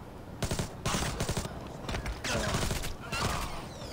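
Gunfire in the stealth shooter game Splinter Cell Blacklist: several loud, close bursts of rapid shots in quick succession, with short gaps between volleys.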